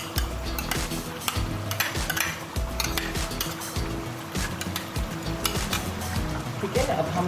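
Onion, poppy seed and coconut paste frying in a pan for a mutton curry, a steady close sizzle with repeated scraping and stirring strokes against the pan, continuous throughout.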